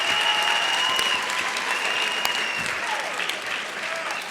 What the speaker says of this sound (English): one final round of applause for our graduations